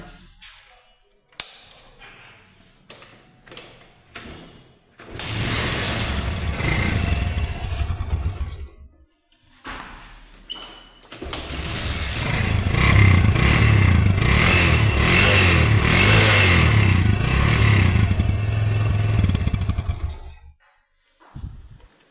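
A Bajaj Caliber 115cc motorcycle engine started and revved nearby, with short bursts of clatter giving way to two long, loud sustained revs that rise and fall before cutting back to idle and near silence.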